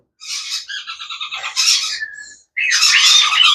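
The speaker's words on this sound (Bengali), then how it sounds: "খুবই সুন্দর এটা হচ্ছে ক্রিমসন রেড বেলিট কনুর" Crimson-bellied conure parrots at a bird market give loud, harsh squawks in a rapid run of repeated calls, then a brief gap and another burst of close, raucous screeching.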